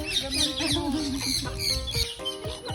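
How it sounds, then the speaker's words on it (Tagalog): Several chickens cluck and squawk close by in short, overlapping bursts, with a busy, uneven rhythm and no clear talking. "Mga manok din, no?"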